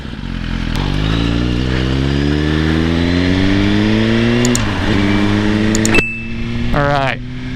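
A 2017 Suzuki GSXR 1000 pulls away with its exhaust climbing steadily through a long rising rev, dipping at a shift and revving again, loud and close, with brief clicks and beeps near the end.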